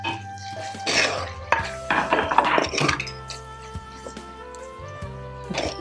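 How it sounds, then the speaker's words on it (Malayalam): Onions with a little salt are stirred in a cooking pan for fish paalu curry, a utensil scraping and clanking against the metal in brisk close strokes, busiest early and then settling into lighter taps. "നന്നായിട്ട് ഇളക്കി കൊടുക്കാം."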